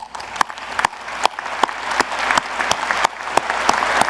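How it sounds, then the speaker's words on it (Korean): Audience applause at a formal government briefing on a nuclear-powered submarine plan, a steady dense patter of many hands with sharp louder claps standing out at regular intervals, sustained and fairly close throughout. "여러분 큰 박수 부탁드립니다"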